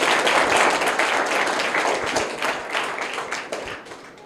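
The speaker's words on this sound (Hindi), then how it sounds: "तो इनके लिए जोरदार तालियां हो जाएं।" A crowd at a private school prize ceremony applauding steadily, dense overlapping claps that ease off slightly toward the end.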